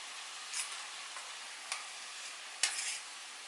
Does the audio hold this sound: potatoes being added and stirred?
yes